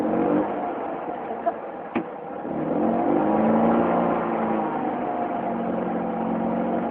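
A Fiat 500 engine hums during a driving lesson and swells into a steadier, stronger drone after a single sharp click, staying near and moderately loud.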